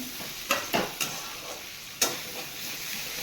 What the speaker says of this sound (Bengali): ভাজা ভাজা করতে করতে আমি কয়েকটা গোটা লঙ্কা অ্যাড করে দিলাম